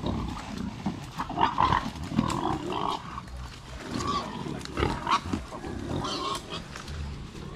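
Pig burrowing into dry leaves and bamboo in the Philippines, with repeated close grunts and rustling bursts in an irregular rhythm.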